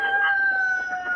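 A rooster crows briefly in a barnyard among chickens, a single short, moderately distant call with a steady tonal quality.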